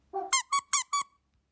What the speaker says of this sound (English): This dog toy, which sounds like this on its own